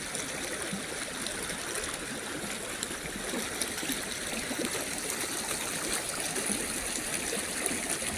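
River water flowing steadily at a riverside bathing spot, a constant soft rushing and trickling wash with no breaks and no voices, fairly faint.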